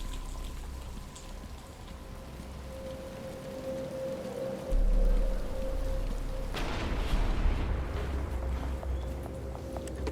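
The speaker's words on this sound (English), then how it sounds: "But it's starting to rain." Steady rain falls across a Batman: Arkham Asylum game scene, a constant hiss of drops on surfaces, joined midway by a low rumble and then a heavier, louder burst of rain with no talking.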